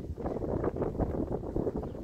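Gusty wind buffets the microphone in a continuous low roar at a Seattle shipyard, with no voices.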